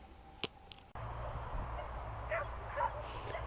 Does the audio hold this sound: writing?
no